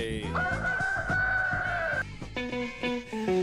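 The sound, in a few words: rooster crowing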